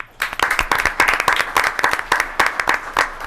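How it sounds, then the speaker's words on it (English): A short round of applause from the audience at a board of education meeting. It is a steady patter of many hands clapping for about three seconds, fairly close, with no voices over it. "All right, Mr. Beach, you want to stand up again for a round of applause?"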